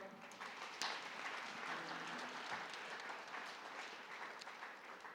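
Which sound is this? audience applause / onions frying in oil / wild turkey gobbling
audience applause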